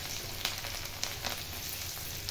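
Garlic and cumin sizzle in hot oil, a steady crackling fry with small pops, close and continuous through a short stretch.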